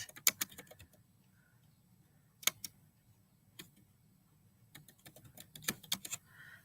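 Typing on a computer keyboard at home, quick bursts of sharp key clicks separated by short pauses, close and fairly quiet.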